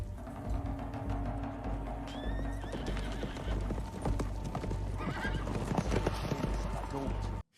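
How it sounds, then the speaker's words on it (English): Horses clip-clop steadily and neigh loudly in a film scene, their hooves thudding close and continuous beneath a busy, dense mix of other sound. "don't do it on horseback where they're making a bunch of noise"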